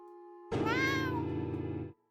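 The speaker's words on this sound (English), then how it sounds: "Quit meowing innocently." A cat meows once in the Café Stella and the Reapers' Butterflies visual novel game, a single clear, drawn-out meow lasting over a second and heard alone against near silence.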